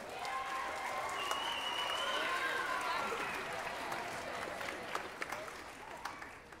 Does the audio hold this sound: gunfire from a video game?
no